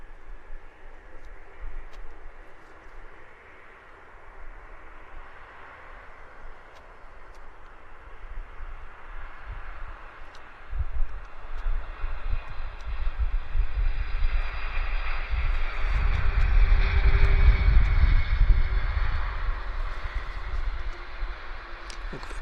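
Lufthansa Boeing 747-400 landing at Vancouver Airport, a distant engine drone that steadily swells into a loud, low rumbling roar of reverse thrust on the runway, then eases slightly, heard alone without talk.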